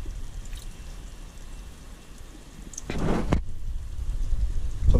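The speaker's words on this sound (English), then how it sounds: "Add some water to that." Water is poured into a cast iron pot holding browned bits from baked ptarmigan, a faint low rumble swelling into a bright splashing gush midway, then a steadier pour continuing to the end.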